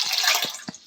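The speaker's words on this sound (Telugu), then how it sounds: "దానికి ఈ గ్లాస్తో ఒక 3 గ్లాసెస్ ఆఫ్ వాటర్ పోసానండి" Water splashes from a glass into a pot of rice for Hyderabadi chicken biryani, a close, loud pour with a few gurgling drops trailing off at the end.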